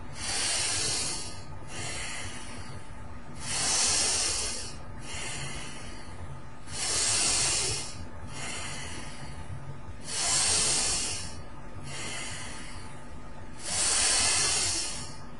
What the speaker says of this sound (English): Exhale all your air on 3. 1, 2, 3. Inhale back.